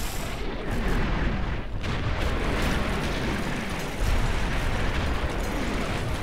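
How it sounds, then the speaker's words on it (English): Continuous artillery barrages in a war strategy game, dense overlapping booms and explosions rumbling without pause at steady high loudness, no voices. "Oh, more artillery, really?"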